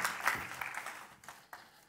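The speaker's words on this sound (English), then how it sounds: "can I have an applause" A conference audience gives a short round of applause for the chair. The clapping is moderately loud at first, then thins to a few scattered claps and fades out within about two seconds.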